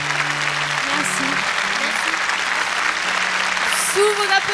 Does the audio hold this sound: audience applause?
yes